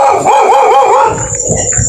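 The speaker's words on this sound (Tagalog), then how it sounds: "marami pong aso dito sa daanan mga karitual" Large stray dogs on a roadside give a loud, close, warbling bark that wavers like a howl, then fade into softer outdoor noise.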